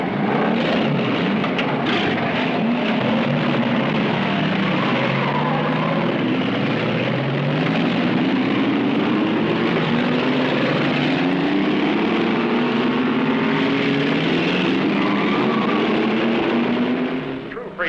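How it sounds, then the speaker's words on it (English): Race car engines starting and revving at an Indianapolis-style car event on an old 16mm film soundtrack, a loud, continuous roar with rising and falling engine pitch, unbroken throughout. "gentlemen, start your engines."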